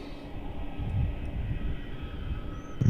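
An airliner taxiing at Melbourne Airport gives a steady, moderately distant low engine rumble that holds level throughout, with a slight swell near the end and no voices.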